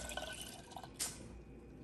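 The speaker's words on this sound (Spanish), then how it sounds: "vamos a agregar ya nuestro concentrado de flor de Jamaica. Lo vamos a ir incorporando a nuestra agua" Hibiscus flower concentrate is poured into sweetened water, giving a faint, brief liquid trickle and splash in a quiet kitchen, with no talking.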